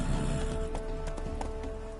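Horse hooves clip-clop at a steady walking pace in The Witcher 3, a repeated rhythmic clatter over a dense game soundscape.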